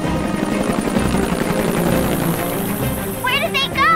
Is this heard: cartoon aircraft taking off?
yes